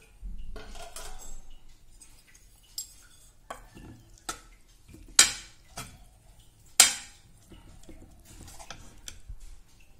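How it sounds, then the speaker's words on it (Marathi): Metal lid set onto a cooking pot on a gas stove with sweet-and-sour ridge gourd and chana dal curry, a few sharp clinks and knocks standing out over faint kitchen clatter, no talk. "झाकण ठेवूया आणि गॅस बंद करूया."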